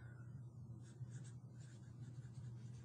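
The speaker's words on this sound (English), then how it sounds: "you're going to write your name" Faint, soft squeaky scratching of a Sharpie marker lettering a name onto a piece of styrofoam, in short strokes over a low steady hum, close up and with no voices.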